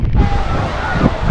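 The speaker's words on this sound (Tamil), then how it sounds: "இந்த இடத்துல காற்று ரொம்ப ரொம்ப சூப்பராக இருக்குது." Steady wind gusting across an open seaside amusement park in Chennai, a loud broadband rush with buffeting on the microphone and a faint surf-like wash underneath, no clear talk.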